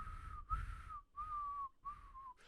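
Someone whistles three drawn-out notes with short breaks between them, soft and close, with no other sound.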